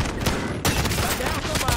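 Rapid gunfire in a video game firefight, a dense, continuous fusillade of loud, close shots that keeps up through the whole short stretch with no pause.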